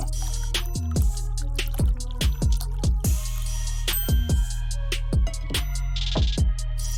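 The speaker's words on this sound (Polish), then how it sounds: "I przygotuj żelatynę. Zalej ją wodą." Water poured onto gelatin in a bowl, heard as a run of distinct drips and splashy plops over a steady low hum, close and fairly loud with no talking.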